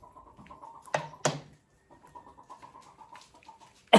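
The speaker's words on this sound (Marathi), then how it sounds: "हा आत मधल्या कोंबड्या दाखवतो टपात बसवल्या होत्या" Hens in a coop, giving a few soft clucks and murmurs with a couple of louder brief squawks, close but fairly quiet.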